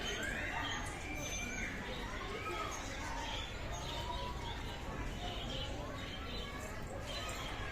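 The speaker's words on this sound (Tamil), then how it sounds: "இங்கே பாருங்க, புறாக்கள்" Pigeons coo in soft repeated calls among other chirping birds, near and moderately loud over a busy ambient background, with people talking at times.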